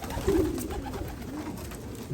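Soft, low pigeon cooing repeats a few times over a murmuring background, fairly close.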